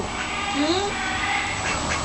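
A duck quacks in short, nasal calls that run under a person's speech, against a steady background noise.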